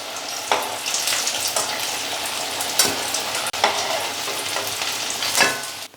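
Samosas deep-fry in hot oil, giving a steady dense sizzle and bubbling with occasional stirring knocks, close and continuous without talk.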